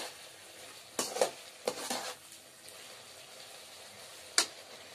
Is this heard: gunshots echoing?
no